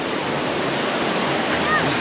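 Ocean waves washing onto a beach, a steady broad wash of surf with light wind noise throughout, fairly soft and continuous with no clear individual breakers.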